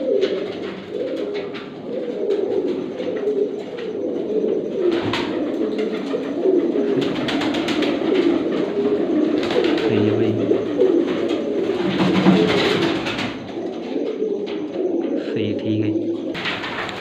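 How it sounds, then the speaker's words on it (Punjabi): Many large grey pigeons cooing continuously in a low, rumbling chorus, with occasional wing flaps and faint voices in the background. "ਬਹੁਤ ਹੀ ਵੱਡਾ ਸਲੇਟੀ ਕਬੂਤਰ"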